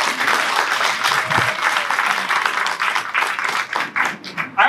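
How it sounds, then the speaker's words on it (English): An audience applauds at an outdoor book signing event, a sustained patter of many hands clapping close by, fairly loud and steady, thinning toward the end. "So round of applause."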